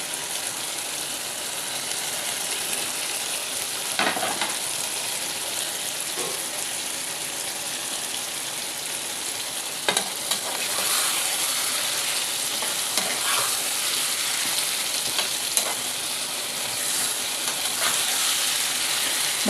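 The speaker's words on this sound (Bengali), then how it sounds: "ভাজা আলুটা দিয়ে এটা ভালো করে নেড়ে চেড়ে কষিয়ে নিতে হয়" Bengali-style chicken kosha with fried potatoes being stirred and sautéed in a pan: a steady, close frying sizzle with repeated scraping strokes of a spoon against the pan, and no voices.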